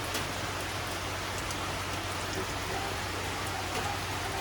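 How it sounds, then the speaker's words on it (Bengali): Steady rain falls outside on a gloomy morning, a continuous even hiss of drops with a low hum beneath, no voices. "ওই দেখুন ওইখানে দেখা যাচ্ছে কীরকম বৃষ্টি হচ্ছে"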